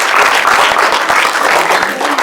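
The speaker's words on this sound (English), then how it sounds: "the crowd gave him a standing ovation" A film festival audience gives a standing ovation after a screening, dense loud applause of many clapping hands close by, sustained throughout with no voices.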